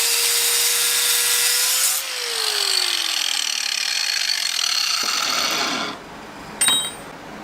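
A piece of metal is cut off for welding onto vice grips, a loud, steady rasping cut that winds down partway through, then a brief metallic clatter near the end.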